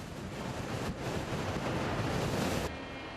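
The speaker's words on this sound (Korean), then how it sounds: "오늘따라 바람이 제법 분다" Strong sea wind buffets the cab of a gantry crane perched 30 m high at a shipyard, a loud, steady roaring rush that drops off abruptly near the end.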